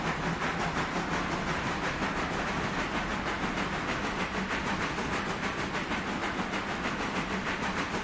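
A train rolls along steadily in the Railroader railway simulation while driven by AI, giving a continuous loud rumble and hiss with a faint clickety-clack rhythm throughout.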